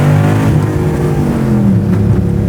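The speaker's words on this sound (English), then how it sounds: "It accelerates pretty quick." A Pro Street 1967 Chevy Nova accelerates hard, its loud engine roaring close and steady with a rising pitch over a couple of seconds.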